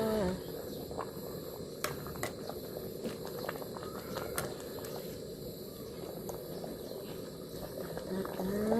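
Bamboo shoot curry bubbles gently in a pot over a home kitchen fire, a soft, steady simmer with occasional small clicks and taps, faint and close.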